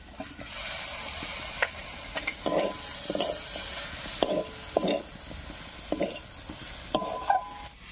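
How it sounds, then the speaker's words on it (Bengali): Dried lote fish cooking with chopped tomatoes in a pan, a continuous close sizzle broken by repeated scraping spatula strokes at an uneven rhythm, with no voices. "টমেটো দিয়ে আরো বেশ কিছুক্ষণ রান্না করে নিয়েছি"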